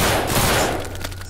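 Firearm gunfire from the zombie shooter No More Room In Hell, a rapid volley of loud shots that fades into a few scattered reports and a low hum.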